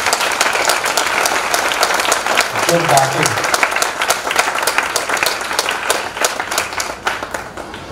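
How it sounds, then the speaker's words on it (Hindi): An audience at a yoga lecture on medicine breaks into strong applause, a dense, lively clatter of hands that stays loud across the clip, with a brief spoken word partway through. "जोरदार तालियों से"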